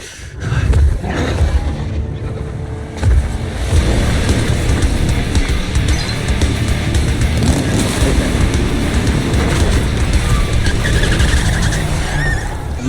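Engine roar and skidding tires as a car pulls away in Zenless Zone Zero, a loud continuous rumble with screeching texture throughout.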